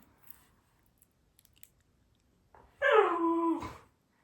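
A dog chewing and biting on her favorite toy indoors, a few faint clicks, then a close, loud burst of gnawing with a whiny, squeaky edge lasting about a second, no talking.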